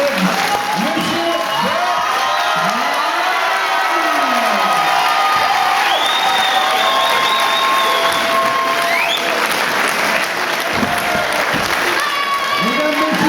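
A boxing crowd gives a sustained ovation to a champion from Cambodia, steady loud clapping mixed with cheers, whistles and shouts filling the hall throughout, with voices calling out over the applause.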